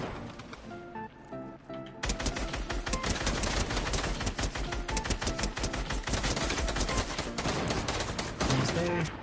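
Rapid, continuous gunfire in a video game boss fight on a duo escape map. Dense bursts of shots run almost without pause and stay loud and steady after a quieter opening.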